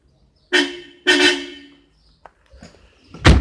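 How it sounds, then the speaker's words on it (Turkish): A Tofaş Doğan SLX 1.6 i.e. car horn honks twice in short, loud blasts, followed by a few faint clicks and a heavier thump near the end. "hemen şöyle bir korna sesini de göstereyim size"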